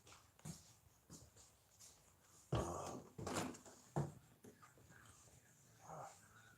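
A dog at home gives several short, faint whimpers and snuffling sounds, with soft knocks and bumps between them. It is heard from close by, and no one is talking.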